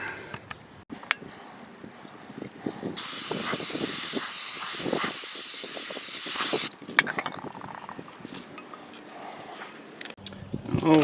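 A steady pressurized spray of cleaner on an RV electric brake hub hisses for several seconds, preceded and followed by clicks, clanks and handling noises of work nearby.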